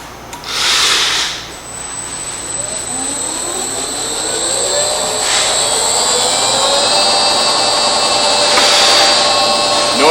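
A Genie Presto concrete floor burnisher with a 10-horsepower Siemens electric motor starts up and spins to speed. A rising whine climbs in pitch and settles into a loud, steady high-pitched running drone.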